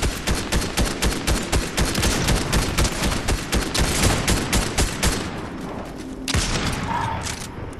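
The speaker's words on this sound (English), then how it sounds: "they're shooting." Gunfire in Fortnite, rapid loud rhythmic bursts of automatic shots pounding without pause for several seconds, then a short lull before more firing.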